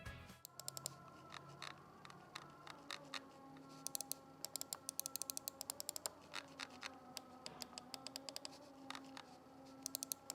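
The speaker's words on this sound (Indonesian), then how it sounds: "berikut ini adalah contoh mouse feedback dari AIOPC ini" A bundled mouse of an Acer Aspire C24-1800 all-in-one PC clicks close up, many crisp rapid clicks in irregular bursts over a quiet background hum.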